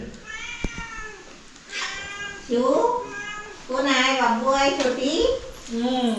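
Several drawn-out cat meows, rising and falling, repeat close by over a steady background hum, with a sharp knock near the start.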